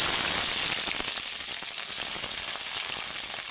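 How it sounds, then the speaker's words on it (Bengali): Chopped onions sizzle steadily in hot oil over a tempering of spices and bay leaf, a constant bright frying hiss with no one talking. "দেখো পেঁয়াজটা আমি লাল লাল করে একটু ভেজে নেবো"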